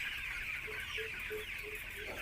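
Chickens cluck in a poultry shed of about 2,500 birds, a series of soft repeated clucks over a steady high hum of farm ambience, fairly faint and slightly distant, with no talk.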